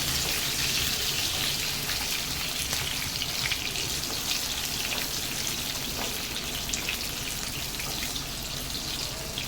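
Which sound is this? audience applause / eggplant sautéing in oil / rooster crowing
eggplant sautéing in oil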